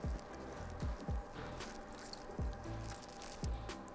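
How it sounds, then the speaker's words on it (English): Lemon juice is squeezed over cashews, giving soft wet squishes and drips in irregular bursts, close and quiet. "I'm also going to add a squeeze of lemon juice"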